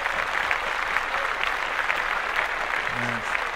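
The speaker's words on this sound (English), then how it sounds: "Let's clap that up." Applause on a sports podcast, a steady wash of clapping that may be a sound effect, continuous and moderately loud with faint low-pitched tones near the end.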